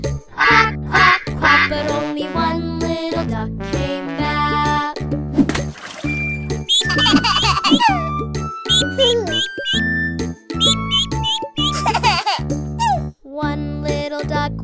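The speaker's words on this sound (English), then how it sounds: "Mother duck said, quack, quack, quack." In a children's song, sung quacks stand in for a mother duck, repeated in short rhythmic bursts over bright, bouncy music with tinkling chimes.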